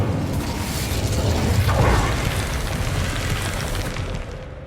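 The Incendio fire spell is cast in Hogwarts Legacy, a whooshing burst of flame with a low rumbling boom that swells near the middle and then fades into steady background noise.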